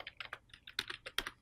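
Several quick keystrokes tapped on a computer keyboard, light irregular clicks a fraction of a second apart, quiet and close with a faint hum beneath.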